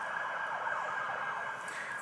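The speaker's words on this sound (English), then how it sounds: "We got the 5-0, the cops coming by. Can you guys hear those sirens?" A police car siren wails at a distance, a steady moderate tone through the whole stretch with no talk over it.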